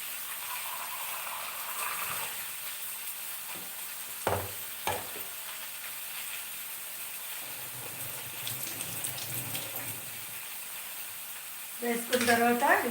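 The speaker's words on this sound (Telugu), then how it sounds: "ఇదిగో ఇలా దీన్ని బాగా వేయించి దీన్ని కొంచెం వేయించేయాలి" A paste of coriander, green chili, asafoetida and cumin fries in a pan, with a steady close sizzle, scraping stirs and a few sharp utensil knocks, rising to a louder clatter at the end while a voice talks faintly.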